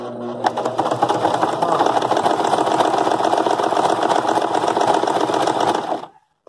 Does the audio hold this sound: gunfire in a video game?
no